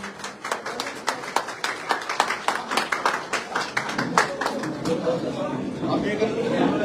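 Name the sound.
audience applauding at a political rally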